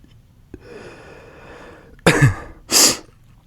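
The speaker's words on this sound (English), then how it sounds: "My nose is running a bit from my allergies, so you could hear me sniffle a lot today" A quick nasal sniffle from allergies followed by two loud, sharp bursts of air through the nose, close and with no talking.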